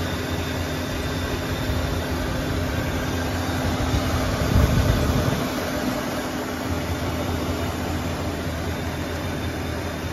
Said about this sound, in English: Idle speed might be slightly low,